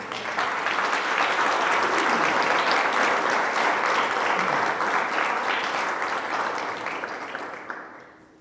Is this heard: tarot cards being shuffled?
no